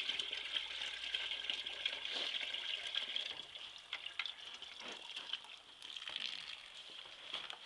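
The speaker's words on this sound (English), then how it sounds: "5 more gallons of water here going in." Hot water pours steadily from a hose or tap into a fermenting vessel of corn mash for moonshine, a constant faint hissing gush with a few small splashes, no voices.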